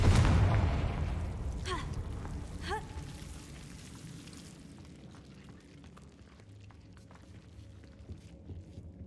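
A Confringo blasting spell bursts loudly in Hogwarts Legacy, a strong boom with a rumbling tail that fades over several seconds into quiet ambience.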